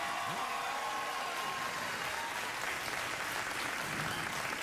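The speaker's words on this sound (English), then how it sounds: "I think you can applaud." A late-night TV talk show studio audience applauds in a loud, dense, steady roar of clapping that fills the whole stretch without a break.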